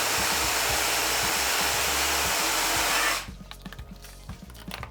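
A hand blender runs at full speed chopping 140 g of beef, a loud steady motor whir that cuts off abruptly after about three seconds, leaving faint clicks and handling noise.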